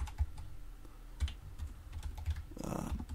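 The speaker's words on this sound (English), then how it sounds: "So I'm just going to type something like starring, and then I'm just going to type in people's names." Typing on a computer keyboard: a quiet, irregular series of key taps with soft clicks and thumps, heard close and alone, ending in a brief, fuller rustle near the finish.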